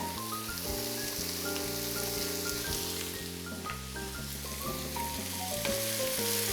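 Garlic and vegetables sweat in olive oil in a pan for imam bayıldı, giving a steady, close sizzle and crackle, while music plays underneath throughout.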